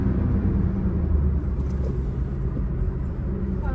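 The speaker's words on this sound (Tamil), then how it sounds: "இப்போ பிரேக்கிங் எப்படி இருக்குன்னு பார்த்துடலாம்." A 2024 Maruti Dzire braking hard from speed, a deep rumbling road and engine roar heard from inside the car that eases slightly as it slows.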